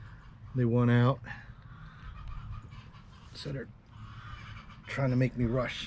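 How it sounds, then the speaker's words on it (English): Chickens cluck and squawk loudly in short bursts near a backyard where a white pine is being wired as a bonsai, heard alongside someone talking. "I don't know if you can hear the chickens in the background there."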